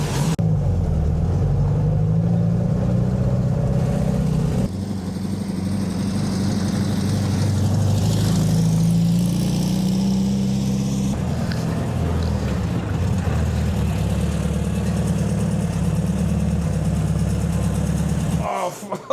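A 1958 VW Beetle fitted with new air ride suspension, sitting low in the back, drives around the block, its engine droning steadily and close throughout with shifting pitch as it accelerates and changes gear.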